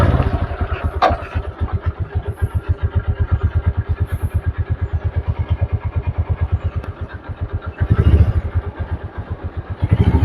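A motorcycle engine pulls away on a Tehatta to Karimpur ride, its steady rapid thudding exhaust pulsing loud and close, with a brief surge of revs near the end.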